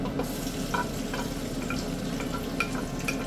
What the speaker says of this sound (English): I'm going to add my onion. I'm really going to allow this to fry up.